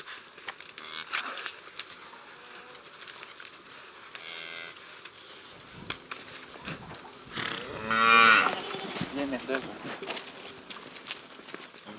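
Cattle on a farm that also keeps sheep, goats, donkeys and miniature horses give a loud, drawn-out moo near the end. Fainter lowing and scattered farmyard noises come before it.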